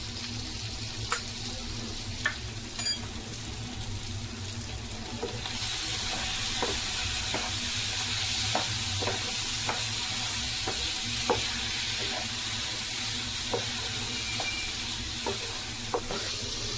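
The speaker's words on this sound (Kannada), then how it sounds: "ಖಾರದ ಪುಡಿ, ಧನಿಯಾ ಪುಡಿ, ಗರಂ ಮಸಾಲೆ ಎಲ್ಲ ಸ್ವಲ್ಪ 1-2 ನಿಮಿಷ ಹಿಂಗೆ ಫ್ರೈ ಆಗಲಿ" Mutton frying in ghee with chilli powder, coriander powder and garam masala in a pan, a steady sizzle under light scraping and stirring taps that continue at close range without talk.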